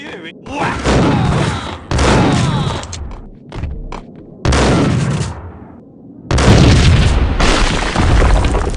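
Explosive booms from the video game Max Payne Mobile, several loud, heavy bursts with long rumbling tails, separated by short gaps, with voices under and between them.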